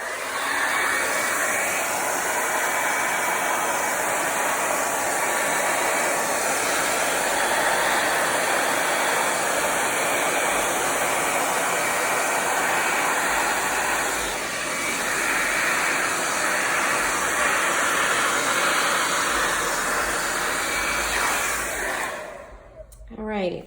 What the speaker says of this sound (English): And then I've got my blow dryer ready here.